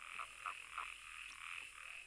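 Toads croak at a pond in a steady series of short, rhythmic calls about three times a second, set against a constant high-pitched chorus of other amphibians.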